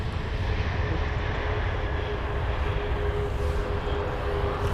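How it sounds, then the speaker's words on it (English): A United Boeing 787 airliner rumbles past at Heathrow, its engines a loud, steady, close roar with a faint whine on top and no voices. "There's the United 787 passing by as well."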